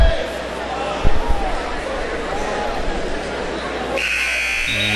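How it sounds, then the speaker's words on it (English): A loud electronic buzzer sounds near the end of a wrestling match's second period, cutting through crowd noise and a commentator talking over the arena din. "And there's the buzzer to sound the end of the second period"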